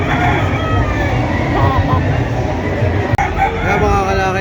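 A Boston Roundhead rooster crows at a busy gamefowl expo, its call rising over a dense, noisy crowd din with people talking throughout and one sharp knock near the end.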